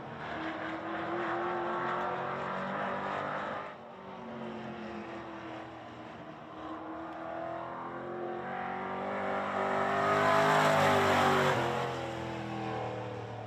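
A Legends race car laps a speedway during an invitational event. The engine drones steadily at a distance, then swells louder as it passes nearer before easing off again.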